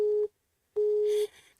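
A telephone busy signal from a faulty phone line sounds two steady tone pulses with a silent gap between them, clear and moderately loud.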